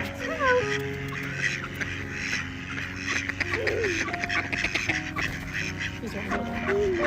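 Ducks quack around someone feeding them nuts outdoors, with geese-like honks and bird calls mixed into a busy, fairly loud scene while people talk throughout.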